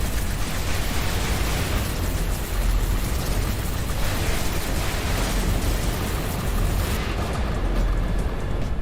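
Heavy bomb blasts in the space shooter Everspace 2, a dense continuous rumble of booming explosions filling the whole stretch, loud and low, with a slight thinning of the top end near the close.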